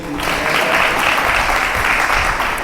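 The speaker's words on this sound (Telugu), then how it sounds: "చప్పట్లు కొడదాం దేవునికి" A church congregation at a wedding thanksgiving gathering claps together in a dense, steady burst of applause that fills the room for a few seconds.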